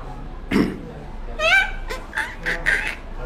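A man mimics the call of a jungle fowl with his voice, producing a few short crowing bursts and clucks in quick succession, close and loud.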